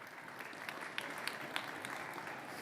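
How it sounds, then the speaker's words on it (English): An audience at a 2024 conference on cultural experiences claps steadily for a few seconds for a speaker, a dense even patter of many hands with a few sharper claps standing out. "So please give him a warm round of applause."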